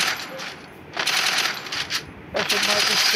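Gunfire in a shooter video game, with several rapid bursts of automatic shots loud and close, interrupted by short pauses, while a person talks over the action.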